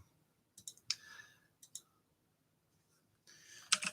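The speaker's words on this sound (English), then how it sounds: "The downside of buying an extremely clicky relay type keyboard is that it makes a bunch of noise when you're online." Clicks from an extremely clicky relay-type mechanical keyboard, arriving in a few short bursts of keystrokes separated by silence, with a denser clatter toward the end; fairly quiet and close.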